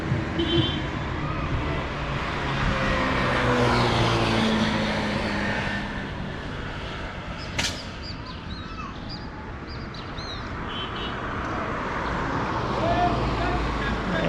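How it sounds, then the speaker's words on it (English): Morning road traffic lined up bumper to bumper in the Guyana countryside, a broad steady rumble of passing vehicles with louder swells, distant birds and people talking over it. "every morning you usually have a lineup of traffic here, bumper to bumper"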